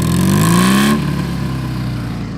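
A 1966 BMW R50/2 sidecar motorcycle with a custom exhaust gives a loud, close raspy growl as the engine revs up, then drops back abruptly to a steady idle.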